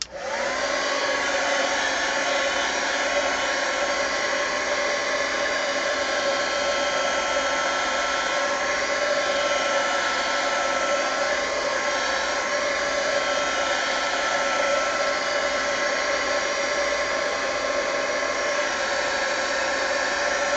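A heat gun blows steadily to dry an art journal page made with an adult coloring book image, a loud, continuous whooshing drone with a faint whine that holds without a break from start to finish.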